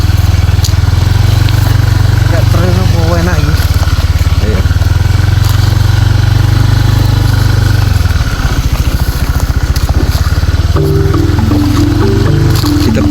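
A road motorcycle on an asphalt ride rumbles with a steady, loud engine drone and wind buffeting throughout, its pitch shifting slightly as it goes; riders speak briefly over the noise.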